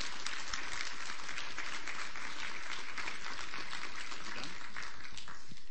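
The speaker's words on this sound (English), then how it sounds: "Round of applause, please." Quiet, steady audience applause at an end-of-semester class presentation evening, a continuous patter of many hands heard at a distance with a thin, muffled quality.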